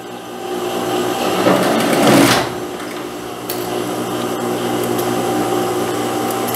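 A sewing machine topstitching a dress with a slant pocket whirs steadily and fairly loudly, with a brief surge in the middle, then runs on evenly with no talking.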